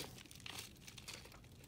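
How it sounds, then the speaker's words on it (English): A plastic bubble mailer crinkles and crackles as it is handled and opened, a brief, faint, close rustling with a few sharper crunches. "These bubble mailers, difficult to cut through."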